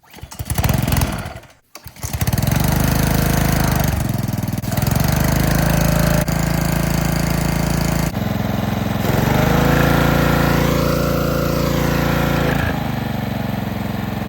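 A pressure washer motor runs loud and close after a starting pull, its steady rough engine drone holding for over ten seconds with slight shifts in pitch and load.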